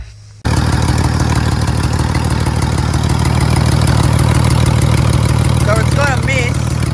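An old Ford Falcon AU car engine idles with a miss. It starts abruptly and runs loud and close with a steady, slightly uneven throb, and brief squeaky sounds come in near the end.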